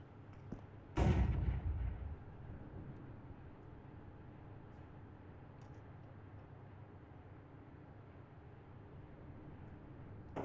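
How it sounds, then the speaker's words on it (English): A grenade bursts in Counter-Strike 2 on the Nuke map with a single loud, deep boom that rumbles away over about a second, followed by a low, steady game ambience. "Throwing a grenade. Grenade out."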